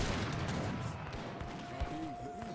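A shotgun shot rings out in Age of Empires III: Definitive Edition amid game noise and background chatter, with crackling bursts and a sustained tone throughout.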